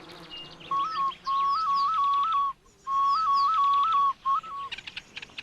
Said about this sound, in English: people can actually call up a Honey Guide by using a snail shell whistle